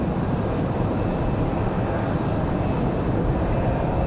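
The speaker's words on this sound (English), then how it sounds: "Smooth departure for the 7-3." Boeing 737 jet airliner departing the runway at Raleigh Durham International on a windy day, a steady loud broadband engine roar filling the whole clip without breaks.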